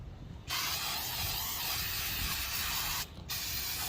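A close, steady spray of paint stripper onto a Foxbody Mustang's interior hisses for a couple of seconds, stops briefly, then a second burst of spraying begins.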